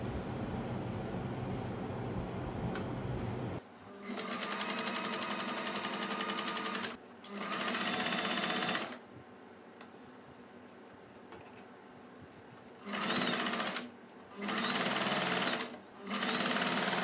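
A sewing machine stitches a puff sleeve in several runs of rapid, steady whirring, each lasting a few seconds and separated by pauses filled with low background hum.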